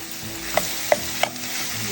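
Ginger, garlic and green chilli paste frying in a pan for a broad bean curry, a steady close hiss of sizzling oil with three light taps of a spoon against the pan.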